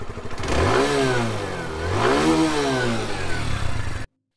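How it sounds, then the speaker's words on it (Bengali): A TVS Metro Plus 110cc motorcycle revs through its exhaust, two rising-and-falling throttle blips over a steady idle, close and loud before cutting off abruptly. "এবার বাইকের এক্সস্ট নোট চেক করি।"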